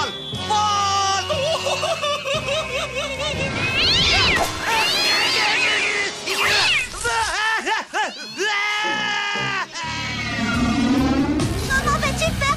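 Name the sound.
cartoon kitten meowing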